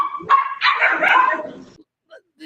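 Dogs in a pet store display let out a few loud, close barks and yips. The barks come in quick bursts over a busy indoor background, with voices mixed in.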